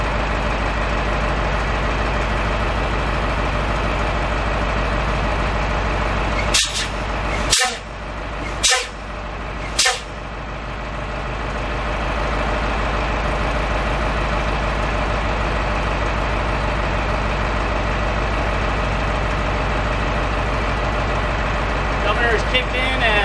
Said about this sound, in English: From 125 psi, when they hit the brake, the governor kicks in at 100 psi